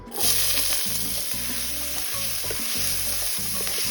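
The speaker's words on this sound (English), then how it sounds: "now I'm going to add some onions" Onions hit a pot of stewed pork and beans, setting off a loud, close, continuous sizzle with faint stirring underneath.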